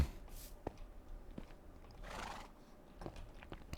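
A horse in Minecraft makes short snorting and neighing sounds alongside a few soft clops and crunches, fairly faint and spread across a quiet background.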